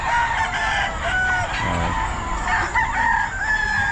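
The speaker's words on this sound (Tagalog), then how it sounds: "ang daming mga manok oh" Roosters crow loudly amid a chorus of clucking chickens at the Bocaue pet market, several birds overlapping in a dense, continuous din with no clear pauses.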